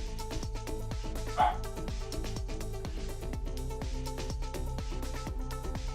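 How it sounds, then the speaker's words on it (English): A dog gives a single short bark in the background, partly masked by steady rhythmic music with a repeating beat. "I'm sorry if you can hear the barking"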